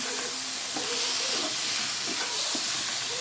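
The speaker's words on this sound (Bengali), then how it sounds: "এর মধ্যে পনিরটা দিয়ে দেবো পনিরটা দিয়ে একটু নাড়াচাড়া দেবো" Paneer stirred and frying in a pan gives a continuous loud hissing sizzle with soft scraping from the stirring, close up, while a faint voice murmurs underneath.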